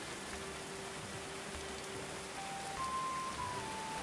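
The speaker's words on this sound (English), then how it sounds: "I know it's raining in the middle of the night" Rain falling at night in the medieval colony-building game Going Medieval, a steady soft hiss of rainfall continuing evenly throughout at moderate volume, with faint tonal game cues near the end and no speech.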